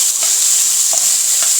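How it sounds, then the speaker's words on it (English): Seasoning stir-fried in hot oil in a pot gives a loud, constant sizzle, with faint scrapes of the stirring utensil now and then and no voices. "Then we're gonna stir fry all our seasoning."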